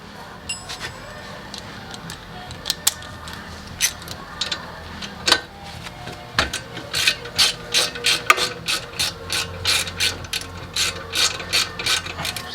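A ratchet wrench with a 12 mm socket loosening a bracket bolt during a coilover install on a 2008-2015 Mitsubishi Lancer Ralliart, sharp clicking in bursts that speed into a fast, loud, close run of ratcheting near the end.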